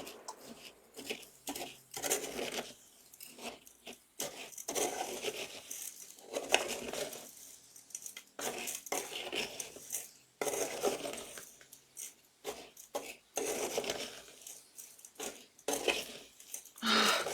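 Dried lavender, sage and mint are stirred together with drops of essential oil for scent sachets, making dry, crisp rustling and clicking in irregular bursts separated by short pauses.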